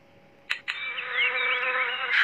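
Insects buzz steadily and close by in a sustained, wavering drone, with a couple of sharp clicks near the start.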